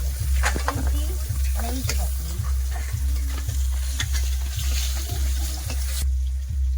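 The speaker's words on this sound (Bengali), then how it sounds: "মাছের মাথাগুলো ভেজে নেবো" Fish heads fry in hot oil in a pan for a silver carp curry, giving a steady close sizzle broken by regular clinks of a stirring utensil, and a low hum runs underneath.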